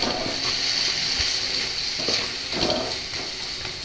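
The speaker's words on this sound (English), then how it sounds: "I'm adding all these masalas that I told you into this, and I'm going to give it a nice mix." Ground spices stirred into onions sizzling in a pan, with a steady hiss of frying and occasional scraping and stirring sounds, close and continuous.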